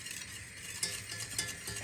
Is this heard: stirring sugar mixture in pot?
yes